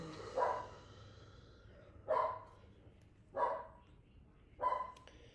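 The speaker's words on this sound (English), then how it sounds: "That's some nice dog barking, right?" Four separate dog barks, evenly spaced about a second apart, fairly close against a quiet background.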